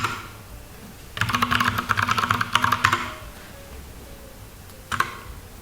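Keystrokes on a computer keyboard entering a Linux terminal command, a quick close burst of clicky taps lasting about two seconds, followed after a pause by a few more isolated key presses.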